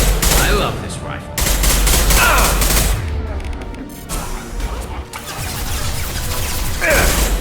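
Rifle gunfire in Mass Effect 2 (Legendary Edition), with loud sustained bursts and rapid repeated shots in close succession, broken by short pauses amid mechanical clatter and game action.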